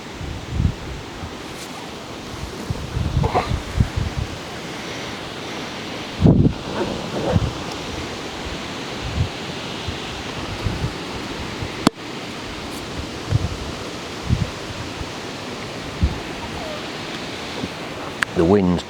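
Wind blowing across a lake at a carp fishing spot, a steady broad rushing buffet with gusts and microphone rumble, loud and continuous, with occasional knocks and brief talk.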